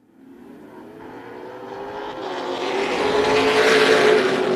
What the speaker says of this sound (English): Saw a little bit of a snap out of that 14 car as it worked through the gears on that restart